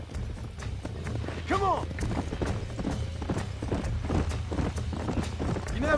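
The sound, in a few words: horses galloping in video game Red Dead Redemption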